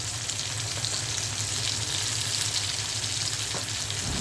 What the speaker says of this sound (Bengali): পেঁয়াজটা ভালো করে ভেজে নিলাম